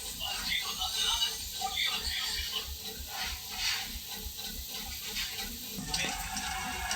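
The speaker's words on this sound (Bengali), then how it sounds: "এখানে আমাদের চিংড়ি মাছের যে টক হচ্ছিল সেগুলো ভালো করে ফুটাতে শুরু করে দিয়েছে" Prawn sour curry (tok) simmering in a pot, giving a steady, close bubbling and sizzling hiss with soft stirring clatter, constant throughout without talk.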